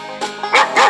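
A cartoon dog in a children's farm animal stacking game gives a few quick, close barks over a bed of game music.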